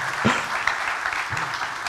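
A conference keynote audience gives continuous, dense applause, a bright wash of many hands clapping alone without talk.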